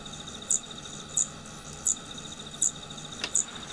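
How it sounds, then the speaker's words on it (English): Crickets calling at night, recorded in a field: a steady high trill runs throughout, with five louder chirp bursts at roughly even intervals, close and clear over a faint low hum. "sound of crickets just at night calling."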